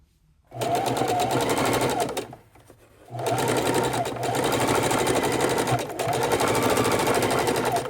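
A heavy-duty sewing machine stitches fabric for a scrappy raw-edge appliqué quilted table runner, running in a steady loud whir that stops briefly for a pivot and then resumes.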